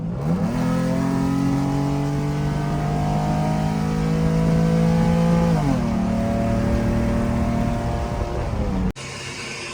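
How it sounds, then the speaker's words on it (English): A Ford F150 pickup with a catback straight-pipe exhaust accelerates hard, a loud, close engine roar climbing in pitch through a gear change before cutting off abruptly near the end. "This is gonna be my last ever pull with the catback straights."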